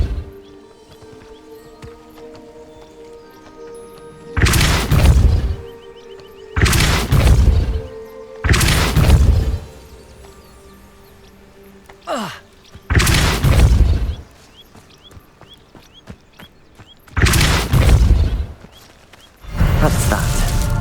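Depulso spell blasts in the Hogwarts Legacy video game, loud bursts of booming force repeating about six times at irregular intervals over a quieter musical game background.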